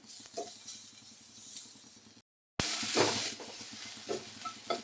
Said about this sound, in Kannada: ತೆಂಗಿನ ತುರಿ ಹಾಕಿ ಹುರ್ಕೊಳ್ತಾ ಇದ್ದೀನಿ.